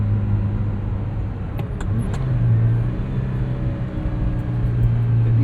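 A 1980 Ferrari 308 GTBi with a gated 5-speed gearbox cruising, its engine a steady droning rumble heard from inside the cabin, with a brief pitch shift as revs change and a faint high whine throughout.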